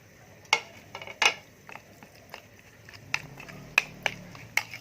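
Chicken satay marinade with sweet soy sauce being mixed in a bowl, a spoon scraping and knocking against the sides in irregular clinks and taps over a quiet room background.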